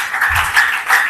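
A church congregation breaks into applause and acclamation, a short burst of dense, close clapping that swells and dips slightly across its full length.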